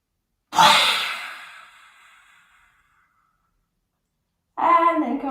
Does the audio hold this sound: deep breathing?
yes